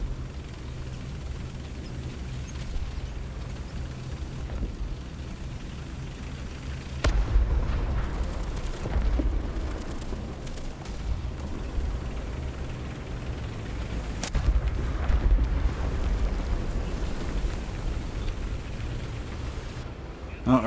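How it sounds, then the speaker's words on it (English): Artillery fire lands during a War Thunder squadron battle, producing heavy booming explosions that swell twice over a constant low battlefield rumble, with a voice talking throughout. "Oh, artillery fire coming in"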